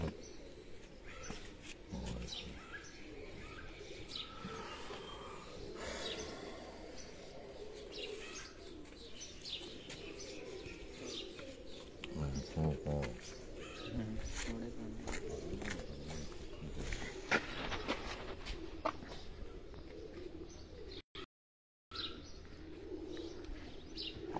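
Performing flying pigeons at a loft keep up a steady low cooing with scattered chirps, joined by faint voices in the background.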